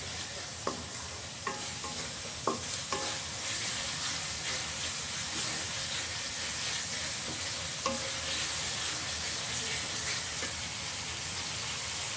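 Spice masala for a beef singara filling is sautéed in a pan with a continuous soft sizzle. Periodic spatula scrapes and taps sound steadily throughout at low volume, with no speech.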